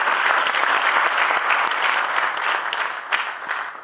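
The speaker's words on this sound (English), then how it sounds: "Let's give them a round of applause." Applause from an audience at a swearing-in ceremony at a college in Los Angeles, a dense, steady wash of many hands clapping, loud and continuous throughout with no talk over it.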